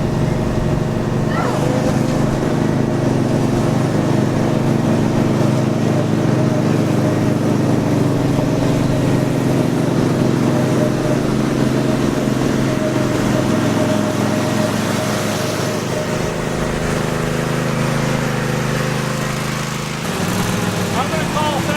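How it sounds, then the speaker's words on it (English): A ride-on mower with a Kawasaki motor runs at a straight-line speed event, giving a loud, steady engine drone that holds for the whole stretch and eases slightly near the end. "I'm going to try the Kawasaki motor just to see what that's like in comparison to the 322"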